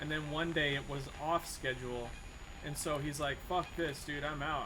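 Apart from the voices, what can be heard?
No everyday noise stands out behind the speech.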